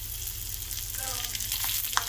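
Spices crackle and splutter in hot ghee, a busy sizzle with small popping bursts throughout, while tempering for kodo millet pongal.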